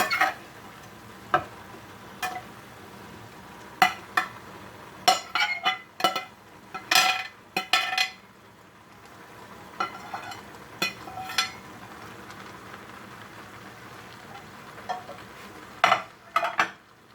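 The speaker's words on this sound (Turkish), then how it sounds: "Sosuyla beraber karıştırıp 1-2 dakikada böyle pişecek." Shakshuka ingredients are stirred together with sauce in a pan, producing repeated sharp scrapes and taps of a utensil against the pan over a soft background sizzle, in irregular bursts.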